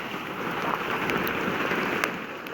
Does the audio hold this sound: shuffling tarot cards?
no